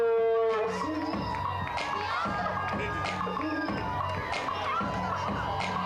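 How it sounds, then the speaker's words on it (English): Crowd of fans cheering and shouting at an eighth-grade all-star basketball game, a steady roar of young voices with whoops and yells rising and falling, with a loud start easing into a sustained din. "As you can hear, the crowd is still into it after a great halftime show"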